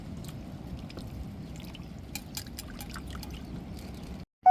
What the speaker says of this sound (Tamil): நம்ம தண்ணியை ஊற்றி வாழை கருவாட்டை கழுவும் போது மெதுவாக கழுவுனோம்னா அந்த கருவாடு உடையாதுங்க.